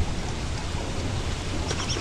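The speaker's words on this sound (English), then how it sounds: "Oh great, now it's raining." Steady rain falls in the video game Don't Starve, a constant soft hiss that fills the whole clip with no talking.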